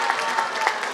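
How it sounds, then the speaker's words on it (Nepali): A church congregation at a large Christian gathering in Morang, Nepal claps in a short, dense burst of applause. "ताली दिउँ न पाउला।"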